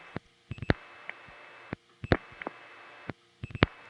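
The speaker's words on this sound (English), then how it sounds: "I'm dialing the number of a certain long-distance charge test" Dialing tones on a 1970s tie-line telephone system sound as short clustered beeps, several bursts of rapid tones spaced through the stretch over a faint line hum.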